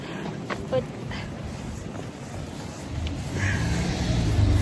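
Strong wind in Japan roars and buffets a microphone outdoors, a steady rushing blast that swells louder toward the end, with people talking over it.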